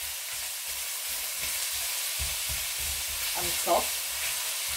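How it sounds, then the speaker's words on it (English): Onions fry in a pan for a chickpea and potato curry, an even close sizzling hiss throughout while a voice speaks briefly near the end. "And then straight in with the onions. And you just want them to be golden brown"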